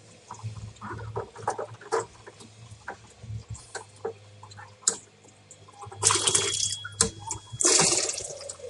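Water spurting from a hand pump used to rinse bottles for home-bottled apple wine, with intermittent splashing, gurgling and pattering bursts up close, growing louder and more hissing toward the end.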